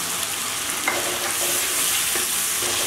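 Chopped tomatoes and ginger paste fry and sizzle steadily in a pan for a Bengali stuffed potol dish, with a continuous hiss and a few soft stirring scrapes, close and fairly loud, no voices.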